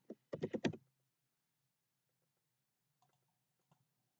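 A computer mouse gives a quick cluster of sharp clicks up close, followed after a quiet pause by a few fainter, sparse clicks.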